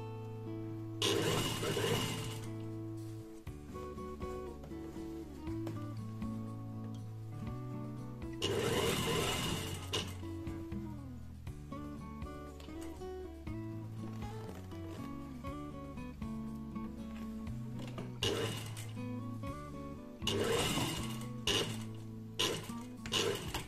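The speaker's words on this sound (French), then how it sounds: "faire une deuxième petite surpiqûre tout du long" A sewing machine runs a second line of topstitching along a trouser fly, giving several bursts of steady mechanical whirring of a few seconds each, separated by pauses, close and moderately quiet, with background music throughout.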